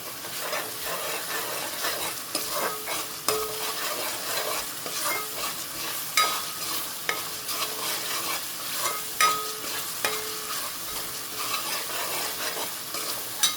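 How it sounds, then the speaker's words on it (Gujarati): Masala stirred in a pan over a high gas flame, a steady loud sizzle with frequent scraping and tapping of the spoon against the pan, close up with no talk. "હવે આપણે ફાસ્ટ ગેસ પર રાખીને એને હલાવતા રહેવાનું, મિક્સ કરતું રહેવાનું."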